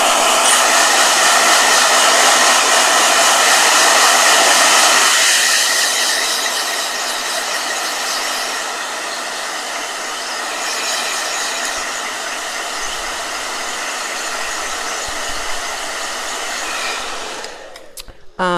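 A blow dryer runs loud and steady at close range, its whine shifting to a lower setting partway through before cutting off near the end.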